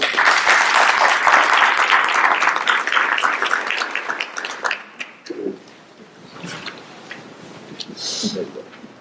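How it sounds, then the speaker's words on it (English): Audience applause for the delegates at a Serra International convention meeting, a dense burst of many hands clapping that runs strong for about five seconds, then thins into scattered claps and trails off. "Give them a round of applause."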